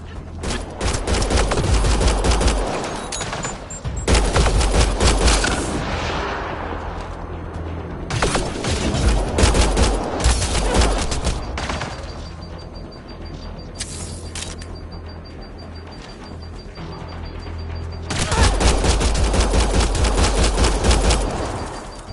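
Heavy bursts of gunfire in a Mass Effect Andromeda firefight, loud sustained volleys with short lulls between them, the fighting rising again strongly near the end.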